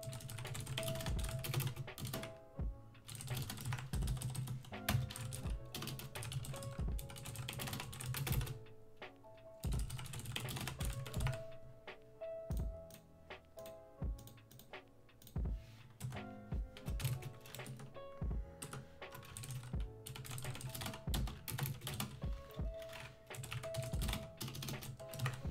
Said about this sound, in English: Okay, we're gonna do really bad typing again.